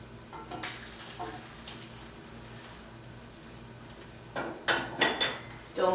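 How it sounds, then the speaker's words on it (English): French toast sizzling in a frying pan, a soft continuous fizz, broken by clinks and scrapes of a utensil against the pan that grow louder toward the end. "Now here my French toast sizzling."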